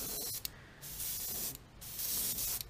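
Airbrush spraying light brown cinnamon paint onto the bottom of a crawdad-pattern fishing bait, giving close, steady hissing bursts separated by short pauses.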